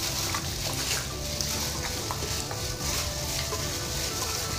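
Sliced cucumber mixture with a tablespoon of cooking oil is stirred in a hot pan, giving a continuous sizzle with soft scraping strokes, steady and close throughout.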